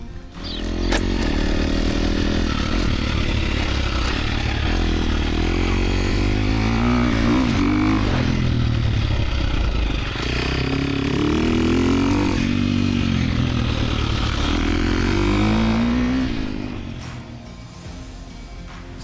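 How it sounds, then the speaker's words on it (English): Dirt bikes roar steadily around a motocross track, their engines droning and revving continuously up close for most of the stretch before fading slightly at the end. "one way or another, we're riding dirt bikes today"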